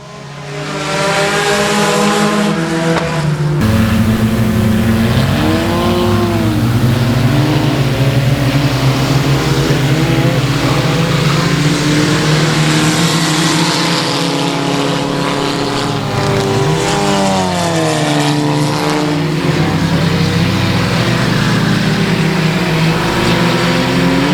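Race cars in a Friday night drag race to the finish line at the Cajun Classic, engines roaring loud and continuous throughout with rising and falling revs as the cars charge side by side.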